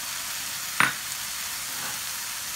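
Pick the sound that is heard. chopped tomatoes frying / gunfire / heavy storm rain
chopped tomatoes frying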